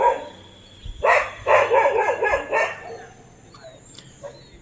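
Two dogs barking in a forest, a burst of several loud, close barks in quick succession that fade out into quieter yelps and whines, with distant animal calls in the background.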